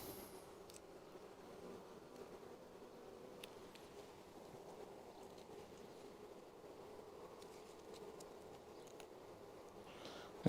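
Honeybees hum softly around an opened hive at an apiary, a faint, steady, low drone that continues throughout with a few brief sharp sounds.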